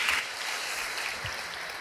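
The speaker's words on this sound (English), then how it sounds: "Round of applause." Soft, steady applause from a conference audience fills the room at a moderate distance, an even wash of many hands clapping with no distinct individual claps standing out.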